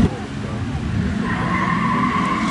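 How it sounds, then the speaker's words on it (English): An Audi Quattro rally car spinning its wheels on a classic supercar rally stage, a loud close burst of engine roar and tyre scrabble that builds into a sustained high whine, with a voice speaking over it. "Oh, wheel spin."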